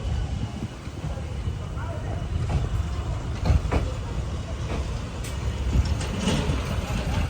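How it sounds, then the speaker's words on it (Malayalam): A passenger train running between Hubballi and Gadag, heard from inside as a steady low rumble of wheels and carriage with scattered clatter, under talk. "ട്രെയിൻ ഇപ്പോൾ ഗദഗ് റെയിൽവേ സ്റ്റേഷനിലേക്ക് എത്തിയിരിക്കുകയാണ്"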